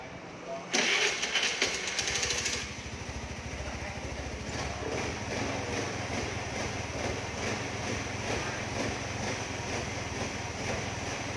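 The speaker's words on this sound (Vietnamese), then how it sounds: "Rồi, nổ máy tiếp." A scooter motorcycle engine is cranked and catches after about a second, then settles into a steady idle that runs on in a workshop, fairly close and moderately loud, with no talk over it.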